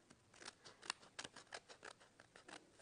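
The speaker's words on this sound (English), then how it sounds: "I can take my scissors and trim around" Scissors snipping around the edge of a paper craft panel, a quick series of about a dozen sharp, close cuts in an uneven rhythm, quiet and alone.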